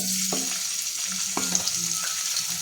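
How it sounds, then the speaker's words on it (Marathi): Green chillies and garlic dropped into hot oil in a pot, a soft steady sizzle with a few sharp clinks and scrapes of a utensil against the vessel, no talking. "तेल गरम केलेले आहे। आता त्याच्यामध्ये मिरची आणि लसूण टाकून घ्यायचे।"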